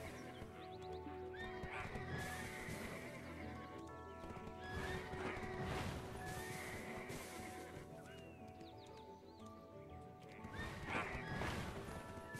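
In the Black Desert video game, a horse's hooves clip-clop steadily at close range while repeated loud neighs and whinnies rise above the galloping.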